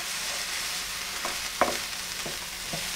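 Chinese-style fried rice with salt and stock powder cooking slowly in a pan, a steady soft sizzle with a few light stirring taps, one sharper clink midway.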